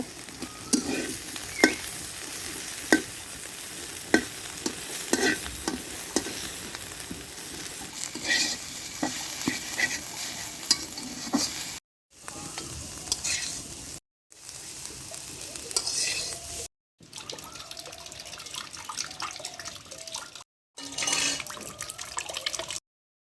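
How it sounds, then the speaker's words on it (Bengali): Gima greens frying in a pan while being stirred: a continuous close sizzle with repeated scraping and tossing strokes, broken by a few brief pauses. "এখানে গিমা শাক ভেজে নেওয়া হচ্ছে"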